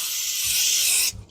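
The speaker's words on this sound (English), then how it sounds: "and I'm going to spray the top" Cooking spray (Pam) hisses from an aerosol can onto the top of pizza dough in a bowl, one steady close spray lasting about a second before it cuts off sharply.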